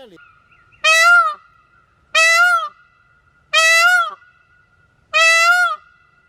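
A peacock gives four loud, harsh, evenly spaced calls close by, each a short nasal wail, with near silence between them.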